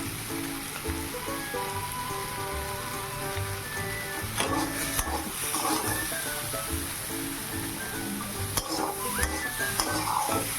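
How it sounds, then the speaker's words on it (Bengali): Potatoes and raw banana are stirred and fried in a spice mix, giving a steady sizzle with scraping stirs throughout and a musical backdrop underneath. "ভালো করে একটু নাড়াচাড়া করে এই আলুটা দিয়ে দিলাম"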